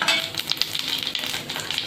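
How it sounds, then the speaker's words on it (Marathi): Chopped onion frying in a pan, a close sizzle with quick scraping stirs and light clatter over a brief stretch, no one talking. "कांदा छान मंडळी ब्राऊन कलर होईपर्यंत आपल्याला भाजायचा आहे।"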